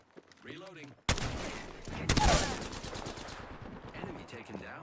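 Rapid automatic gunfire in Apex Legends, a sharp burst that erupts after a brief game voice line and keeps rattling loudly with repeated shots, fading toward the end as another voice speaks.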